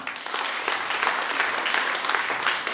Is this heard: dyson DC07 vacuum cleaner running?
no